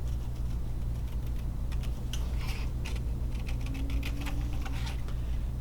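Scissors cutting out paper animal eyes, a series of soft irregular snips and paper rustles over a low steady hum, close and fairly quiet.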